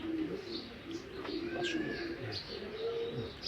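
A female racing pigeon coos softly in low repeated rolls, with faint chirps from other birds nearby against a quiet background.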